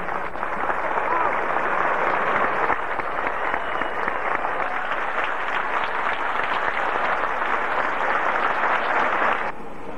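Stadium crowd at an athletics event in San Juan, Puerto Rico, applauds in a loud, dense and continuous wave of clapping that holds steady for several seconds before cutting off.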